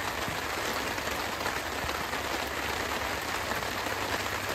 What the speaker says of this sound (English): And the rain just won't stop.